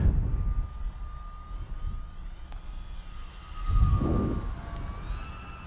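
A Dynam P-51D Mustang V2 radio-controlled model plane flying fast in wind, its motor whining steadily at a distance while gusts rumble over the microphone, with a louder swell as it passes near.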